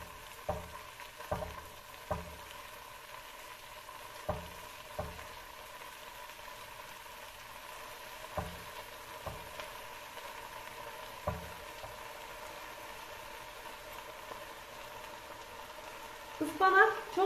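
Spinach sizzling in a pot of spinach pilaf, frying steadily with repeated scraping knocks of stirring, a person speaking at times over the hiss.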